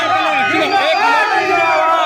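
Protesting truck and tempo drivers gather in a dense, loud crowd, many voices shouting and clamouring together at once, steady and close throughout.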